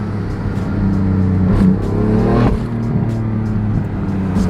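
A BMW F80 M3 accelerates hard, its engine note climbing loudly through the revs, briefly dropping at a shift around the midpoint, then pulling strongly again, close and with no talk.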